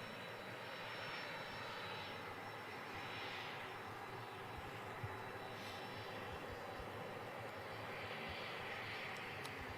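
A Virgin Boeing 747 pulling off the apron onto the main taxiway at Manchester Airport, a faint, steady distant engine drone with slow swells in the whine and no talking.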